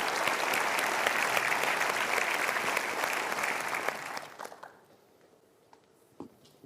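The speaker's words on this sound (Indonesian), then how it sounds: "boleh diberikan tepuk tangan sahabat-sahabat super" A studio audience at an Indonesian talk show claps in dense, steady applause for about four seconds, then it quickly dies away to near quiet with a few stray claps.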